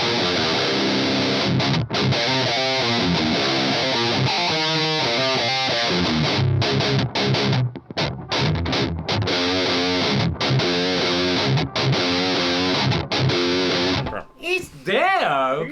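An electric guitar played through a transistor amp roars with heavy distortion, dense chugging chords and sustained notes filling the passage almost continuously, with brief gaps, before a short sweeping squeal at the end.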